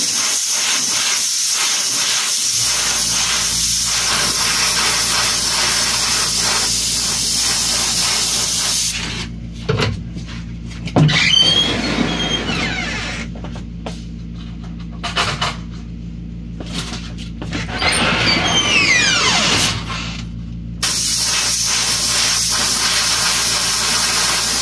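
An airbrush compressor hisses steadily and loudly, with the spray cutting in and out in several bursts midway before the continuous hiss returns.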